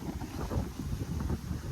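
Sea waves and wind surround a sailboat on an ocean crossing from Mauritius to South Africa, a low, buffeting rumble of wind on the microphone with irregular surges of water.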